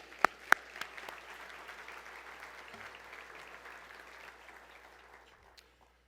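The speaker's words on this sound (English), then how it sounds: "Let's give them another round of applause." Audience applause at an award luncheon general session, a faint, even wash of clapping from a large room after two sharp nearby claps at the start, fading gradually toward the end.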